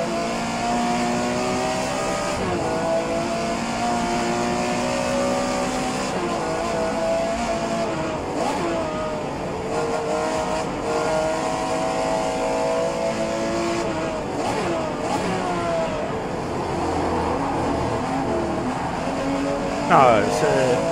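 Porsche 911 Carrera RSR 3.0L race car in rFactor 2, its engine droning steadily throughout with rising and falling revs as it accelerates and shifts, loud and continuous with someone talking over it.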